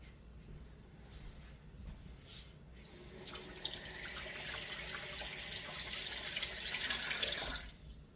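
Water from a tap runs into a kitchen sink: a few seconds of quiet kitchen noise, then a steady, fairly close hissing splash that fades out just before the end.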